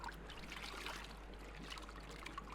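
An aquarium filter sponge is washed and squeezed in a tub of water, giving a soft continuous swish and trickle of sloshing water under a low hum.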